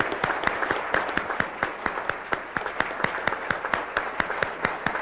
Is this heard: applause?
yes